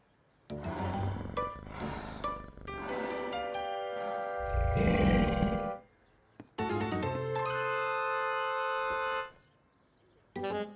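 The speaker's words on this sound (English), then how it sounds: "It's just a baby lion." A cartoon baby lion lets out a few playful roars, drawn-out tonal calls separated by short pauses, loud and close with a burst of rumbling noise in the middle, and no talking.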